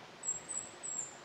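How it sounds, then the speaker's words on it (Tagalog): Faint, high bird chirps repeat a few times over a quiet riverside scene in Magallanes, Cavite, with soft background ambience and no talking. "Ang maririnig nyo lang yung huni ng ibon"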